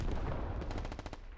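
Rapid artillery fire in the Squad military shooter, a dense rumbling burst of rolling booms with quick repeated cracks, fairly loud and brief.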